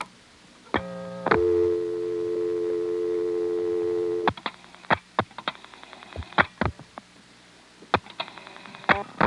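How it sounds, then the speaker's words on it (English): A step-by-step telephone exchange tone plays: a steady held tone for a few seconds, then a run of sharp clicks and brief bursts of tone as the switches step, close and moderately loud, with no speech. "I'm going to dial a call to a busy test without using the director"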